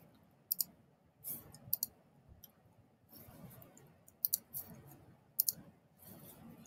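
A computer mouse clicks a hyperlink, a few sharp, close clicks, some in quick pairs, over a quiet room with faint low murmur between them.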